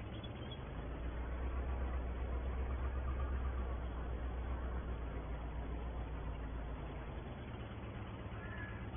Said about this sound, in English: this tractor so much better for doing the drilling.